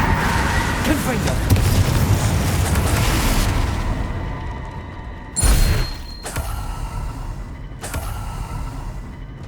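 Confringo explosive spell blasts in Hogwarts Legacy on PS5, a loud burst at the centre followed by sharp crackling bursts, over a dense, rumbling battle din with a voice present.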